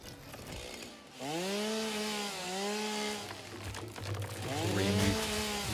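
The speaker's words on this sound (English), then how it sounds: "And we're gonna get the chainsaw." A chainsaw cutting down trees in the factory-building game Satisfactory: the engine drones and revs in rising and falling bursts, loud and close, with a brief dip between pulls and no talking.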